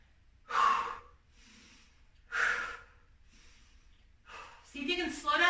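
Deep breaths come in and out during a HIIT workout, three loud inhale-exhale bursts spaced about two seconds apart, close to the mic, with a voice starting at the end.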